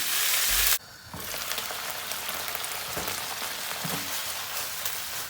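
Onions cooking in a pan until lightly caramelized, a dense steady sizzle that swells loudly once a lid comes off and then holds at a constant hiss, close and with no voices.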